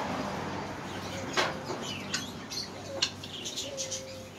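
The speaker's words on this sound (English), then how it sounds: "Pond, got some birds. Got some other birds." Small birds at an outdoor pond give a few faint, scattered chirps and tweets over a steady background hiss, with one thin whistled call near the end.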